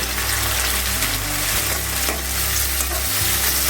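Chopped tomatoes sizzle with onions in hot oil for a dry fish gravy, a steady close frying hiss with brief stirring scrapes and no talk.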